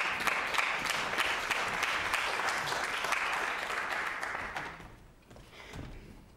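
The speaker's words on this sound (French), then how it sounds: "Vous pouvez applaudir." Audience applause at a stage performance, a dense wash of many hands clapping steadily for about five seconds before thinning out and fading to scattered claps.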